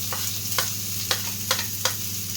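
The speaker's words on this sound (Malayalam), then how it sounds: "അപ്പോൾ അതിലേക്ക് നമ്മൾ ഇട്ട് കൊടുക്കുന്നത് വെളുത്തുള്ളി, ഇതേ അരിഞ്ഞ് വെച്ച വെളുത്തുള്ളി ചേർത്ത് കൊടുക്കാം." Chopped garlic sizzles with fennel seeds in hot oil, a steady loud frying hiss broken by a few sharp stirring scrapes at an even pace.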